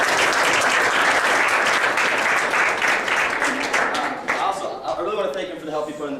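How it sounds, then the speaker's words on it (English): Loud, dense applause from a room at a student senate meeting fills the whole stretch, tapering slightly near the end as voices begin to come through underneath. "So give him a round of applause."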